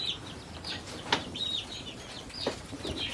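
Chickens on a small Ghanaian poultry farm of about twenty birds, giving a few bright clucks and calls with brief wing flaps, heard fairly close over a steady faint background.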